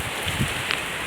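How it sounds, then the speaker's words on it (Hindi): Heavy rain falling in Lahore, a dense steady hiss of drops with faint patters, brief and continuous without talk. "ज़बरदस्त बारिश हो रही है"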